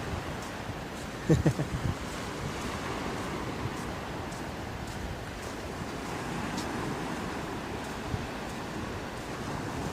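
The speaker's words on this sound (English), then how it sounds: "It's got an eerie, weary feeling of the sea coming towards you." Sea waves roll onto a beach at night in a continuous broad wash of surf, with wind noise against the microphone and a short gusty thump early on.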